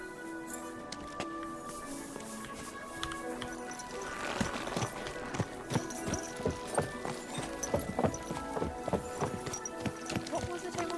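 Horse hooves clip-clop on the ground in Kingdom Come: Deliverance II, a steady rhythmic series of close hoofbeats growing louder midway, with voices talking over them.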